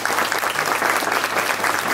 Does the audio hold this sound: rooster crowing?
no